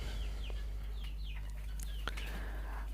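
Quail birds at a poultry farm giving a few short, high chirps and calls at moderate distance over a steady low hum.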